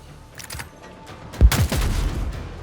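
Gunfire in Warhammer 40,000: Dark Heresy, one loud close burst of shots with a booming impact and a rumbling tail after a quiet lead-in.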